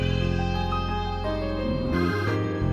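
A breath bell preset played in FL Studio, soft, breathy and chiming, sits over a dense backing of sustained tones and deep bass. The melody is steady and close, and the bass drops out briefly near the end.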